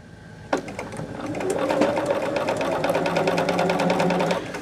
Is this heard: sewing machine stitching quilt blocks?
yes